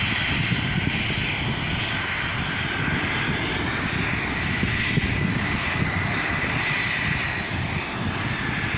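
Airliner arriving from Buenos Aires taxis on the apron, its engines producing a loud, steady roar with broadband hiss throughout, close and continuous with no talk.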